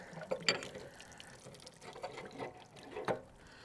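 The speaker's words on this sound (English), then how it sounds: "Let a bit of water out," Water flushes out of a hot water service tank as the anode is changed at a campground, splashing and dripping in several uneven spurts with quiet gaps between.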